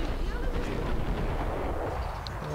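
Gunfire in the video game Max Payne, a dense rumbling barrage of shots and booms filling the whole stretch, loud and continuous with no clear gaps.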